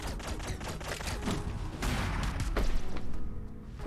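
Rapid bursts of video game gunfire in Owlboy crackle one after another, dense and loud, with heavy thuds and impacts mixed in throughout.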